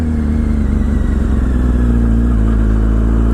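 An AMA pro racing Yamaha R1 motorcycle engine drones loud and close with a strong steady hum, its pitch stepping shift by shift as the rider upshifts, heard without any talk.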